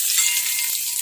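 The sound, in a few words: frying bay leaf, cumin, dried chili and cardamom in oil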